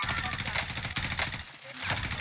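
M4A1 rifle fire in Call of Duty Warzone, a rapid rhythmic burst of shots, fairly faint, with a brief pause and then more firing under game background noise.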